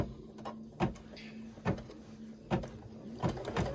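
A sewing machine stitching down quilt batting for a table runner, its motor whirring softly, broken by regular clunks from the mechanism about once a second, close by and with no speech.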